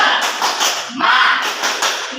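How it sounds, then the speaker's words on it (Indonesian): A room of teachers performs the 'tepuk semangat' clap in rhythmic group bursts, sharp and close, with voices mixed in between the claps. "Tepuk semangat."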